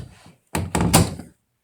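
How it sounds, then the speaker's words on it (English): A door is pushed shut in a home, making a quick cluster of solid thumps and a rattling latch close to the listener, then silence. "Door closed."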